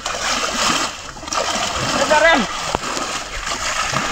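A fish splashes and thrashes in a village pond as it is lifted from the water, giving sharp splatters and sloshes in brief bursts while people talk nearby.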